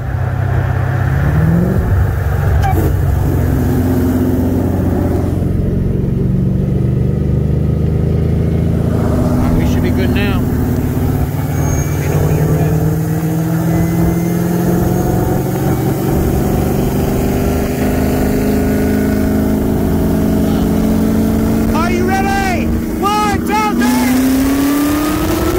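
A 2020 Shelby GT500 with bolt-ons on E85 and a built, Kong 2650-supercharged 2012 Cadillac CTS-V accelerate hard in a roll race from 60 mph. Loud, continuous engine roar climbs in pitch through the run, with audible gear changes near the end.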